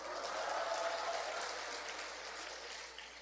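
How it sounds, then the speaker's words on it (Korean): Applause from a retreat audience in a Catholic lecture hall, a dense, steady patter of many hands clapping at moderate distance, tapering slightly toward the end with no voices over it. "이 대목에서는 박수 나와도 돼요."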